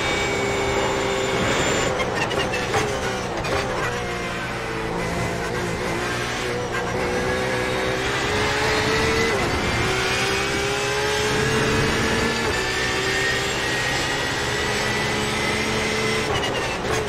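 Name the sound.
Porsche 911 RSR race car engine in iRacing video game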